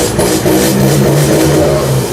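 A 2024 Isuzu D-Max 1.9 pickup with an aftermarket exhaust revs hard with a deep, throaty exhaust rumble that holds steady and loud throughout, close by, with no voices.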